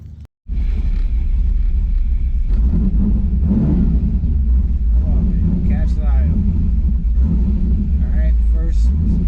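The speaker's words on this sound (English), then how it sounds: "I'm going to go ahead and get in the car, fire it up" A cold LSX V8-swapped Infiniti G35 fires up after a brief click, settling into a loud, steady low rumble with occasional surges as the idle hunts, while someone talks over it.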